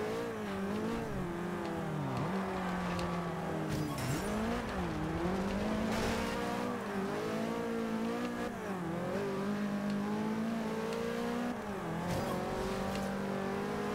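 Car engine in Forza Horizon 2 held at full throttle, a loud continuous roar that climbs in pitch through repeated gear shifts, with brief dips between them and no talking.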